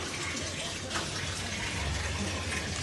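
Water mixed with oil gushing from a vehicle gearbox, a continuous loud rushing splash like a running tap that holds steady across the whole stretch.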